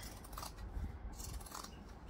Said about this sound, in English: turn it inside out, grab my zigzag scissors